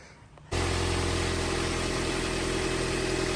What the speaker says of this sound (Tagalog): Start muna natin yung engine.